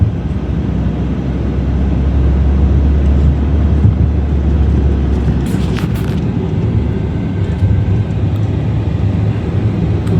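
A 2019 Hyundai Verna fitted with a CNG kit drives along, heard from inside as a steady, loud low engine and road drone that stays fairly even throughout.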